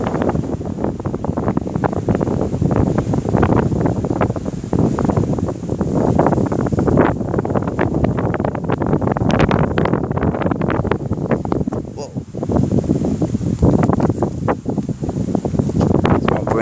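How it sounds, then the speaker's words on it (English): Strong wind gusts buffet the microphone during a passing thunderstorm in Corpus Christi, Texas, a loud, continuous roaring rush that swells and eases in waves throughout, with no talking. "There's another gust."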